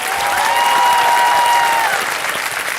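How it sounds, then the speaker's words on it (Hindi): A studio audience at a Hindi television quiz show bursts into steady, loud applause lasting a few seconds, with a faint sustained musical tone running beneath the clapping. "तालियां बच जाएं इनके लिए।"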